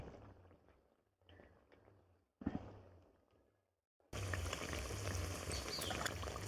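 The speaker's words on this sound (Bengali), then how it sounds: "তেলটা খুব গরম বেগুনিগুলো ভালো ফুলবে" Bursts of crackling sizzle start and stop, then a loud, dense hiss of eggplant fritters frying in very hot oil takes over and continues steadily, close up.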